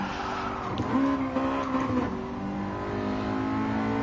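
A racing car in Gran Turismo 7 revs its engine, a rising and falling whine with a brief tyre squeal, loud and close, with no talk over it.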